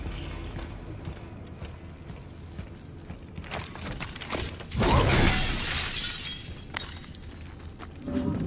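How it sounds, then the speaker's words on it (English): Glass is smashed in the video game The Callisto Protocol, a loud burst of shattering and breaking shards about midway, set against rumbling game ambience and clattering effects. "That's what I'm breaking the glass for."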